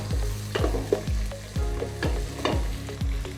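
Green chili, a garlic clove and rough-cut ginger sizzle in a pan as they are stirred, with a steady hiss broken by about six rhythmic scraping strokes of a spoon, close and clear with no talking.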